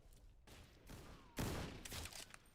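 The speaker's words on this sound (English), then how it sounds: "where am I getting shot from? Are we getting shot from behind?" Gunfire in a video game: several dense bursts of rapid shots, some close and loud, with a sharper, heavier volley midway and short gaps between the bursts.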